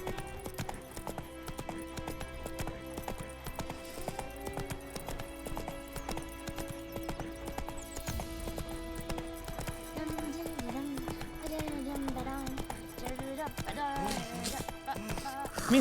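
Horse hooves clip-clop in The Witcher 3: Wild Hunt, a steady galloping rhythm mixed under game music and ambient sounds, with someone talking over it.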